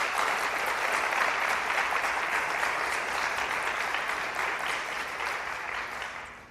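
Sustained applause from a large crowd, dense and even, slowly fading toward the end.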